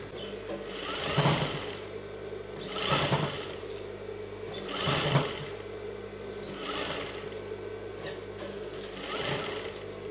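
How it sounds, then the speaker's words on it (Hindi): A sewing machine stitching lace onto fabric runs in five short bursts of rapid mechanical chatter, each about a second long, with quieter pauses between them and no voices. "इसको ठीक इसी के बराबर सिल के ले जाएंगे।"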